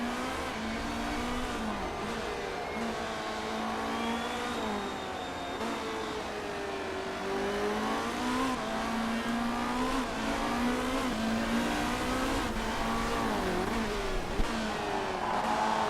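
A race car engine in the Motorsport Manager racing game, heard from a ride-along view: a steady, buzzing engine note that climbs and dips through repeated revs and gear changes, continuous and alone.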